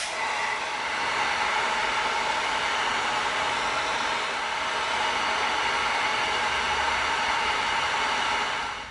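A heat gun blows hot air onto creased EVA foam, giving a loud, steady, broadband whoosh that runs unbroken for about nine seconds with no talking.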